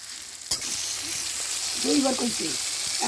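Chopped onion and ginger fry in about half a cup of oil, a steady close sizzle that jumps in after a brief quiet start and carries on with soft stirring clatter.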